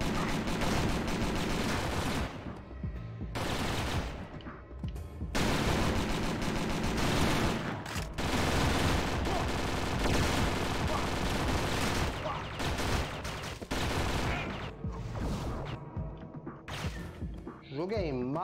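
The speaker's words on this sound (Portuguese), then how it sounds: "É tiro sem parar." Continuous gunfire from the action video game Dead to Rights, played on a PPSSPP emulator, with dense, loud bursts of shots and crashes running almost the whole time over game music, with brief dips in between.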